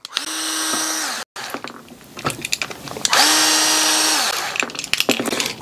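A power drill or driver loosens three bolts on a band-type 10W metal heater fitted to a pendent sprinkler head, whirring loudly in two long sustained bursts separated by short gaps, with small clicks and handling noises between.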